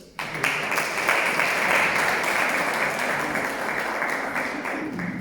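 An audience gives a round of applause at a mental health talk, a sudden burst of dense clapping that holds steady and loud throughout, with no speech over it.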